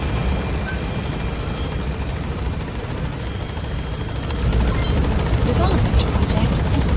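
Helicopter rotor in Metal Gear Solid V: The Phantom Pain, a steady loud low chop and engine roar throughout, swelling slightly near the end as the aircraft gains altitude.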